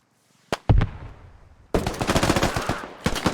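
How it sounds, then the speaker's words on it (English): A grenade blast followed by bursts of rapid gunfire in a competitive military shooter match, loud and close, with a sharp bang early and dense volleys of shots afterward. "Zephyrin gets wounded from the grenade that Wadi just threw"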